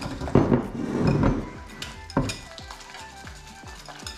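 Softened butter being mixed with sugar, flour and baking powder for cookie dough, with scraping, thudding stirring strokes that give way to lighter clinks of a utensil against the bowl.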